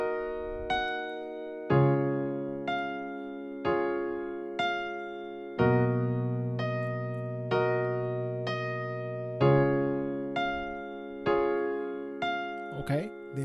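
Solo piano slowly playing the first part of a song, a series of separate sustained chords and notes, each struck and left to ring and decay, with a higher flourish near the end.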